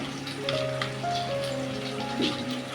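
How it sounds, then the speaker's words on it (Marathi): Steady patter of rain falling on a surface, with a faint tonal hum in the background. "आणि पाऊस पण पडतोय"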